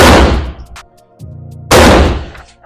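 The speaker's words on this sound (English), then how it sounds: "Here we go, first 5 shots here." Two loud, close rifle shots fired through a Breek Arms Castle blast shield, each a sharp blast followed by a decaying rumble, with a brief mechanical hum between them.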